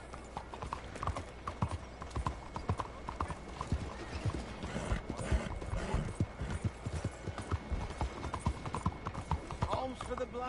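Horse hooves clip-clop steadily at a walking pace on a hard road, moderately close, with a voice speaking over them.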